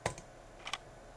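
Keys on a computer keyboard tapped in two short bursts, a quick double keystroke followed a moment later by another pair of clicks, crisp and close against a quiet background.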